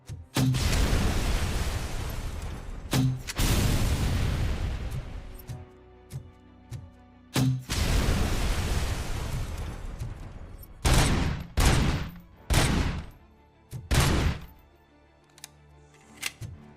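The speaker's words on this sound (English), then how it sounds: "Grenade launcher." Grenade launcher blasts in the video game RoboCop: Rogue City, with a string of sharp booming explosions: two long rumbling blasts early, then several shorter punchy bursts in quick succession, loud and close.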